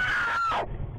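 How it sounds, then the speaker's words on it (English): A woman screams in panic inside a car at night on a freeway, caught by a dash cam during an attack by a passenger; a loud, sustained, high-pitched cry that drops off abruptly, leaving low road rumble. "And then heart-wrenching screams."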